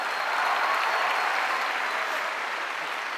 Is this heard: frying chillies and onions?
no